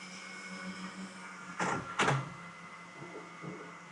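A Bambu Lab H2D 3D printer runs a print job indoors, a faint steady motor hum with soft whirring, broken by two brief louder swishing bursts of carriage movement and a few small clicks, no voices.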